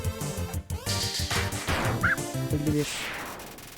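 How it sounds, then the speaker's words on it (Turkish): A dog bark sound effect from the video game Undertale rings out briefly over the game's busy background music, with no voices. "Şu köpek belirdi"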